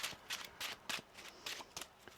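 Tarot cards being shuffled in a quiet room, a series of short riffling bursts in an uneven rhythm, fairly soft and close.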